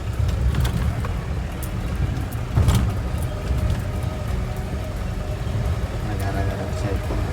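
A car drives out of a village onto the road, giving a steady engine and road rumble throughout, with one brief thump partway through, while someone talks over it.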